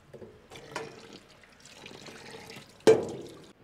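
Raw chicken pieces rinsed under an open kitchen tap, with scattered drips and splashes before a sudden burst of running water that gushes briefly and then fades.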